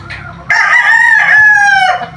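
Boston Gray gamefowl brood cock crowing once, loud and close, a single sustained crow of about a second and a half after a brief faint cluck.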